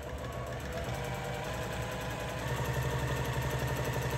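A sewing machine runs steadily through free-motion quilting on a large fall quilt, stitching off the edge into the batting and back, a continuous close mechanical hum with a slight lift in intensity partway through.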